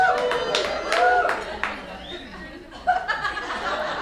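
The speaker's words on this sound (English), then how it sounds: "There should be more y'all clapping than that." Comedy club crowd at a stand-up show giving scattered, thin clapping with a few chuckles, mixed with voices and room murmur.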